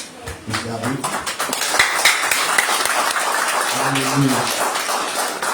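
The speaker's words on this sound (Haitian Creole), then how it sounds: "applaudir toute fille qui est dans la salle là" An audience in a ceremony hall applauds for the girls. The clapping is dense and sustained for several seconds, with a voice speaking over it at the start and again near the end.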